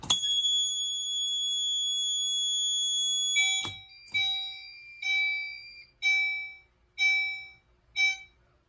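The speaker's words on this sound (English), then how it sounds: "we're going to go ahead and activate the duct detector with the key switch" A Potter PFC 4064 fire alarm system triggered by a duct detector key switch, ringing a loud, steady high electronic tone for about three seconds, then switching to a regular pulsed beeping pattern of roughly one burst per second.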